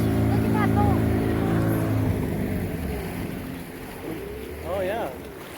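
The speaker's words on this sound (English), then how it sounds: "There's another boat right there, coming up on it." A boat motor drones steadily on the open water of Lake Titicaca with wind noise, while people talk nearby over it.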